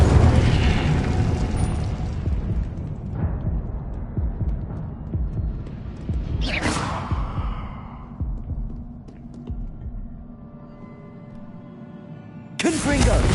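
Confringo spell explosions in the video game Hogwarts Legacy: two loud bursts, one near the middle and one at the very end, amid ongoing combat rumble and scattered impacts, with a voice calling out over the action.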